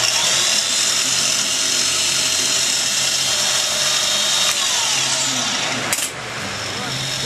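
The quill spindle of a G0704 milling machine, driven by a V-belt, runs at speed with a steady, loud, bright whine that holds constant and then dips slightly near the end.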